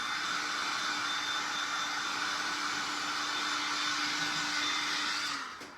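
Steady, loud hair dryer blowing on a craft-painted Patron bottle, a constant whooshing roar with a faint motor whine that runs unbroken for several seconds before cutting off at the end.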